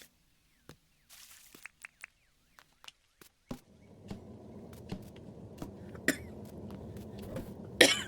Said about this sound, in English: my apologies for coughing